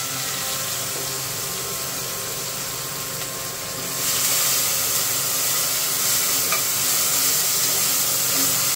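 Onion, green chili and tomato frying in oil in a pan while cooking mutton biryani, a steady close sizzle with faint stirring scrapes that grows a bit louder midway.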